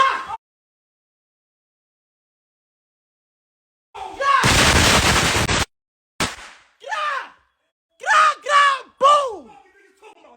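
A firework set off outdoors bursts with one loud, sustained blast lasting over a second, then a sharp crack, followed by excited shouting and yelling from several people nearby.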